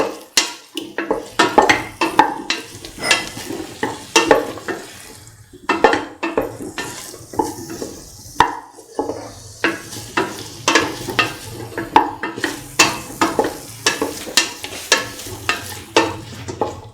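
Garlic potato rice is stirred and fried in a pan, with rhythmic spoon scrapes and clanks repeating every second or so over a soft, continuous sizzle.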